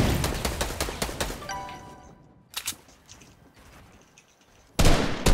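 Rapid gunfire bursts from a turret in a multiplayer shooter game, a dense volley of loud repeating shots at the start, a brief lull with scattered pops, then another loud burst at the end.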